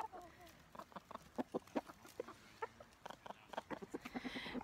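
Flock of chickens at a snowy mountain coop clucking in quick, irregular bursts, several birds close by and fairly quiet, with a voice speaking softly among them.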